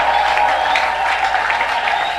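A church congregation at an evangelical centre acclaims and applauds together, a steady roar of clapping and cheering with a sustained tone running underneath.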